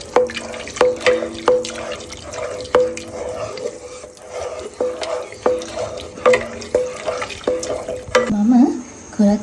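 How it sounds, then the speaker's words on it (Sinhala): A spoon stirs a pot of finger millet and sago gruel just after coconut milk is poured in. Close, rhythmic clinks and wet scraping repeat steadily about once a second. "දැන් නැවතත් හොඳට හැඳ ගන්න ඕන."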